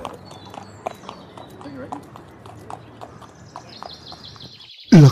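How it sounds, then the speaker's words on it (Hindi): Horse carrying a prince into the forest near Rampur, hooves clip-clopping in a steady rhythm at moderate distance with faint birdsong, ending in a sudden loud burst of voice. "राजकुमार अपने घोड़े पर सवार होकर रामपुर के जंगलों के लिए निकल जाते हैं।"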